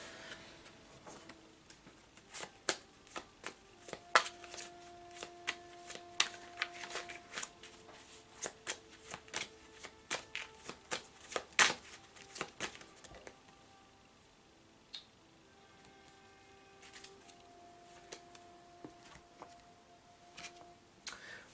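Tarot cards being shuffled during a reading, with repeated soft riffling and slapping clicks in an irregular rhythm across the whole stretch, close up and fairly quiet, with no talking.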